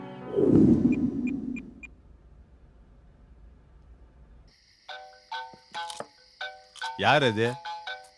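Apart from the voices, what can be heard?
phone ringing late at night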